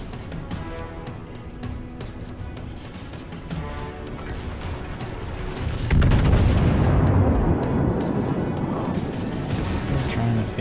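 In World of Warships, the battleship Großer Kurfürst fires its main guns at the cruiser St. Louis. Deep booming salvos roll over constant engine and sea rumble, and a heavy blast about midway gives way to a long roar.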